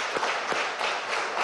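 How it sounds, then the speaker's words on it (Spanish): Brief, moderately faint applause from a studio audience on a presidential television program, an even wash of clapping without a clear start or finish. "un aplauso"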